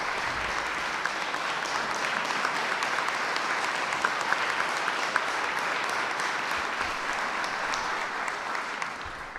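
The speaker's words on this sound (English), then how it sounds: "Please give them a round of applause." Audience applause during a mayor's budget address, a sustained, even wash of clapping from a large crowd at moderate level, with occasional sharper individual claps.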